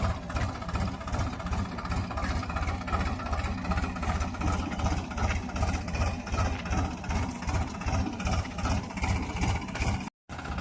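A tractor engine runs steadily at a low idle-like throb, a continuous pulsing chug close by with no talk, cutting out for a moment near the end.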